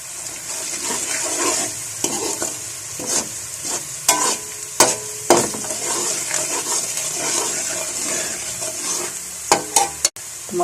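Turmeric, crushed dried coriander, crushed red chilli and pulao masala sizzle in hot oil in a pan for matar pulao, a steady close frying hiss broken by sharp spoon scrapes and clacks as the spices are stirred.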